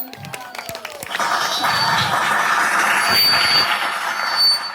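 Applause from a crowd at a Filipino countryside wedding celebration (baysanan) breaks out as dense, steady clapping and keeps going loud for several seconds after a brief quieter start.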